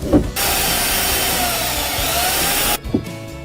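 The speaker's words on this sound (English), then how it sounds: "Let's go and mark our holes and drill a pilot hole." A power drill bores a pilot hole in a wall to mount a baby diaper changing station, running as one loud, steady whine for a little over two seconds between short knocks.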